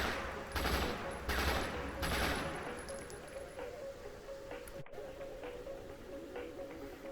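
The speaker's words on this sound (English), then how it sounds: "You can fire it in fully automatic, or you can also switch it over to the burst fire with the rate of fire key." Automatic weapon fire in the Splinter Cell Chaos Theory video game comes as a few rapid bursts early on, then fades into quieter background game noise, with a brief click and a dropout near the end.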